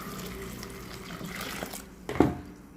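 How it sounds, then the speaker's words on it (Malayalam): Hot water poured into a pot of chopped green chillies, onion and ground cumin, a soft running splash that ends in a brief louder gush, close and fairly quiet with no talking. "ഇതിലേക്ക് നമുക്കിത് കുറച്ച് ചുടുവെള്ളം ഒഴിച്ച് കൊടുക്കാം"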